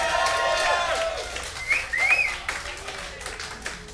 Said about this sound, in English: So cheer for the Epson guy.